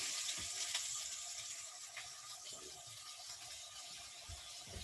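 Sausages sizzle in a frying pan with a faint, steady crackling hiss and occasional small pops, heard alone without talk.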